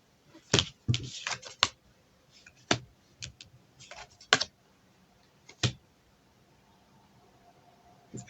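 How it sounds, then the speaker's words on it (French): Tarot cards shuffled by hand in quick irregular bursts of riffling and snapping, close and crisp with pauses in between and no talking. "Alors, attendez, on va tirer d'autres cartes."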